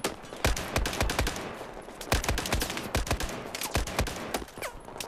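Rapid gunfire from Battlefield 4, a dense stream of sharp shots in quick bursts with a few heavier reports, loud and continuous with no talking.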